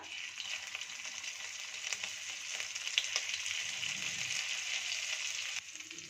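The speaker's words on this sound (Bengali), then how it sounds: "কালো জিরে দেওয়ার পরেই আমি দিয়ে দিচ্ছি আদা বাটা।" Ginger paste hitting hot oil with black cumin (kalonji) in a kadai: a steady, close hiss of frying that holds evenly throughout, with faint crackles and no talking.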